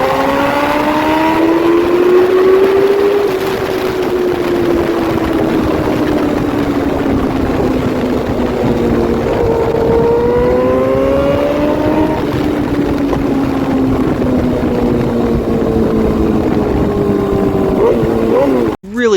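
A GS motorcycle with a titanium exhaust running, its deep engine note loud and continuous, sweeping up and down in pitch through several rev changes before cutting off abruptly at the end.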